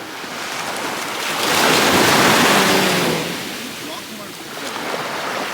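Ocean waves on a beach at night roll in as a broad surf wash that swells in the middle and then eases, with wind buffeting the microphone and no clear talking.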